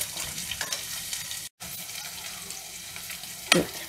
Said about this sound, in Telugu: ఆనియన్స్ వేసేస్తాం. ఇది కొద్దిగా మగ్గనిద్దాం